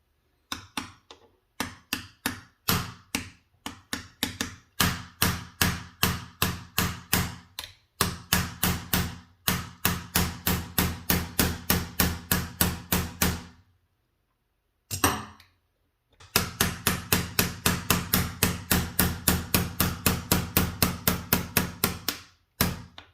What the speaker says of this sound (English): we're gonna beat them out with my hammer